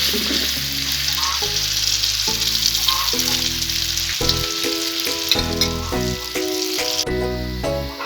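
Onions fry in a pan with a constant, bright sizzle, heard under louder melodic instrumental music with distinct notes that carries on over the whole stretch.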